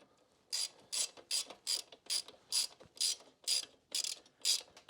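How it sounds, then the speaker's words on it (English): A 1/4 inch drive ratchet tightens an Allen bolt on a Harley-Davidson Sportster during a neutral switch replacement, giving ten crisp, evenly spaced bursts of clicking, close and alone. "Locate your 1/4 inch drive Allen."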